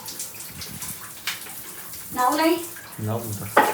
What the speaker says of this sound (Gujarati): ગાઈસ પાણી આવે ફોરામાં